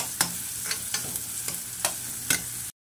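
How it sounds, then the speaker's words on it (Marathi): Gram flour being stirred and roasted with coriander and cumin powder, hing and oil in a pan for methi pithla: soft sizzling under a handful of separate scraping strokes of the spoon, close and fairly quiet. "पूर्ण हलवून घ्यायचं, मिक्स करून भाजून घ्यायचं आहे छान मस्त"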